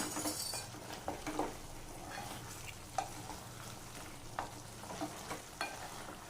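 A spoon stirs sambar powder into an eggplant curry in a hot pan: soft continuous sizzling with light, irregular scrapes and metallic clinks spaced every second or so.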